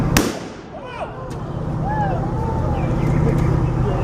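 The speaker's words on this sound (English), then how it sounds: "They're going to let the cannon go off." A single sharp, loud boom at the start, followed by a rumbling, noisy ambience with faint whistling sounds and voices in the background.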